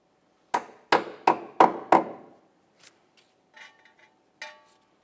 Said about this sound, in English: we'll tap this in with a hammer